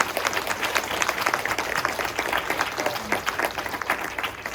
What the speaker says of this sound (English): help me give Kevin a warm round of applause